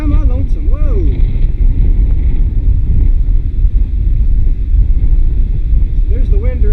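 Wind buffets the microphone during a paraglider flight, a loud continuous low roar that fills the whole stretch, with brief whistling tones near the start and end and someone speaking over it.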